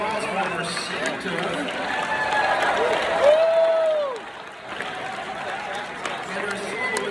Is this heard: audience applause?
yes